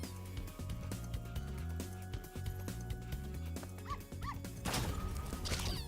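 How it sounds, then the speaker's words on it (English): A dog in the video game Spyro Reignited Trilogy yips and barks repeatedly over a steady bed of game music and effects, the sharp barks recurring at moderate loudness. "This dog is fucking stupid."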